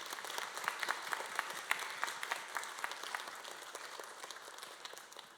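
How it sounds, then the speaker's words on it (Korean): Church congregation at a Friday prayer meeting claps for young members, a soft, distant patter of many hands with distinct individual claps, steady for several seconds before gradually thinning. "우리 청년들 앞에 한번 박수 한번 할까요?"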